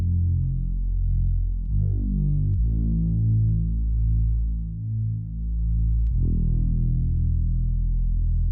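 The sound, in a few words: Reese bass synthesizer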